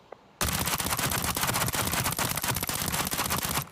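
A Vector submachine gun in Arena Breakout opening up on a shooting range after a brief quiet moment, a long, fast, continuous full-auto burst that is loud and close, with rapid even cracks.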